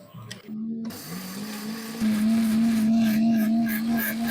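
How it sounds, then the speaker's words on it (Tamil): A mixer grinder whirs as it grinds roasted flattened rice with a couple of cardamom pods, starting with a brief stutter and then settling into a steady, louder motor hum from two seconds on. "இப்போது வறுத்த அவலை நல்லா மிக்சியில் போட்டு அரைச்சிக்கலாம்"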